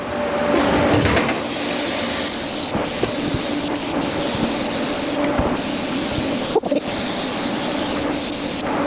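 A spray gun lays a tack coat of paint on a 1992 GMC 3500 dually, giving a loud, steady, close hiss that runs throughout with a few brief breaks, and no voices.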